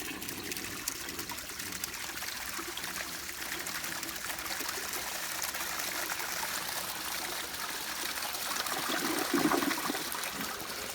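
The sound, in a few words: flush of a 1961 Standard Cadet vintage toilet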